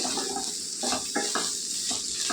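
Ivy gourd and grated coconut stir-fried in a pan, a continuous close sizzle broken by rhythmic scraping strokes of a spoon stirring the mixture, with no voices.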